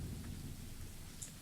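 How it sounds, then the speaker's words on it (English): Soft steady rain hiss with a low distant rumble of thunder in a video game storm, faint and continuous throughout with no speech. "So if we go east, we'll still be in the rain."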